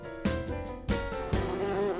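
Cartoon honey bees buzz in a Sesame Street video game set on a honeybee farm, a steady buzzy drone that swells in three fresh bursts over two seconds, with no talking.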